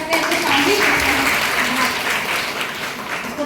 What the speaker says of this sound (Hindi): हम उनको जोरदार तालियों के साथ यहाँ आमंत्रित करते हैं